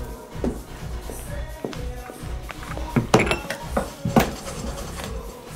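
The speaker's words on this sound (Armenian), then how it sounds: "Բայց գնա ամանները լվա, գնա։" Pots, pans and cutlery clatter and clink as dishes are washed in a home kitchen, irregular knocks and chinks building to a busier burst near the end, with a faint voice in the background.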